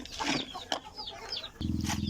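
Backyard chickens being fed a feed mix stirred with honey, giving soft, close clucks and short calls in quick bursts, with a sudden louder throaty cackle near the end.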